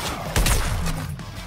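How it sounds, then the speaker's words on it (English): A shotgun firing in a Suicide Squad video game, one sudden loud blast followed by a short rumbling tail, close and alone with no talk. "Shotgun."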